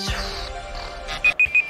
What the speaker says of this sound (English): there is the timer. That has been 15 seconds.